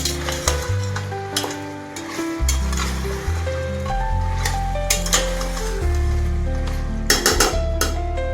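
Mutton sizzles in oil in a pan while cooking a spicy Maharashtrian mutton sukka, with a steady fry crackle, occasional stirring scrapes and a light clink of utensils throughout.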